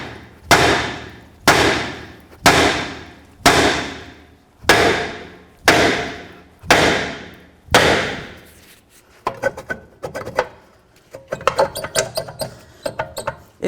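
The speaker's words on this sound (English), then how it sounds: "Start on one of your lug nuts and then bonk on the rotor to break it free from the hub." A hammer strikes the rear brake rotor of a 2008-17 Buick Enclave to break it loose from the hub, eight evenly spaced ringing metallic bonks up close, followed by lighter, quicker taps and clinks.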